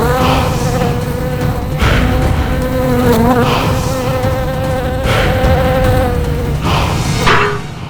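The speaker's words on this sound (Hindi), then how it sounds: "ये मक्खी मार देगी मुझे, ये मक्खी मार देगी।" A housefly buzzes loudly and close by in a long, wavering drone that rises and falls in pitch, with a few brief thumps along the way.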